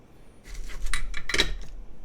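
A keycap from a keyboard falls and clatters, producing a few light, bright clicks and rattles over about a second against a low steady hum, with no talking.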